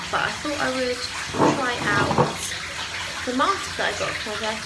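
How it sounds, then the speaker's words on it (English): A bathtub fills with water running from the tap, a steady rushing hiss in the background beneath someone talking throughout. "I'm going to have a bath now, I've decided. Although you can probably hear the water in the background."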